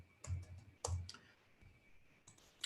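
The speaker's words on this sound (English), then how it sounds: "I think it's better if I just type it in." Keystrokes on a computer keyboard while entering an order in a trading platform, a few quick clustered clicks near and fairly faint, with short pauses between bursts.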